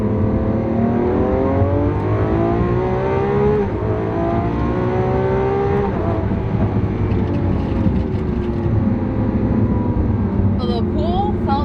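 A Lamborghini Aventador SVJ with carbon ceramic brakes pulls hard: a loud engine drone climbs steadily through rising revs, eases off, and then settles as the car brakes, with a few brief sounds near the end.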